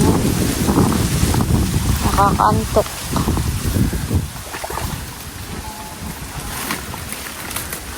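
Strong wind roars and buffets the microphone continuously at a crab farm, with a person talking over it.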